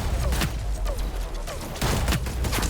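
Rapid gunfire bursts crack out in the online shooter Hyper Scape, a few sharp clustered volleys with brief gaps between them, loud and close, with a voice talking underneath.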